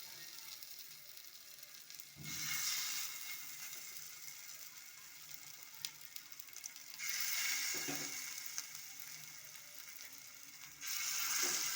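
Vegetable tikka pieces frying in a little oil on a hot tawa over medium heat, a soft continuous sizzle that swells in several louder bursts, faint and close with no talk.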